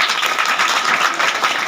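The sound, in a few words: audience applauding teachers' wives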